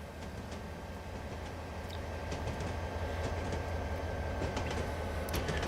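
A train runs in the Train Simulator Classic game on the Fort Kent route, giving a steady loud rumble of wheels and engine with faint clicks and squeals on top and no talk.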